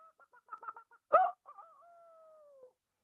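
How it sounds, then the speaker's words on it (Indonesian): A chicken clucking in a few soft, quick clucks, then one sharper squawk and a drawn-out tonal call fading away, close and fairly quiet with no talking. "Itu suara ayam."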